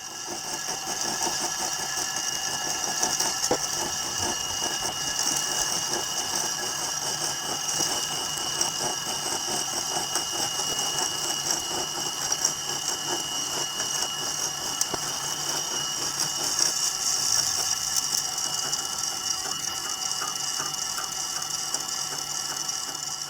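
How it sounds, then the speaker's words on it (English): Continuous whirring and chattering of a slitting saw on a metalworking setup cutting metal, sped up, steady and fairly close with a high whine and rapid ticking throughout. "Cutting with the slitting saw takes forever."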